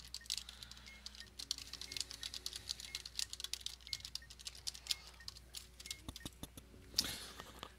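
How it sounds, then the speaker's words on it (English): Rapid, irregular clicking of computer keyboard keys as a sentence is retyped, steady and close with a few brief pauses and a louder cluster of strokes near the end. "For this first one, I'm actually going to retype this sentence."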